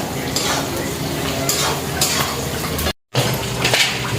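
Kitchen cooking for biryani: steady stirring and frying sizzle with scrapes of a utensil against a pot, continuous and close, with a brief cut of silence partway through.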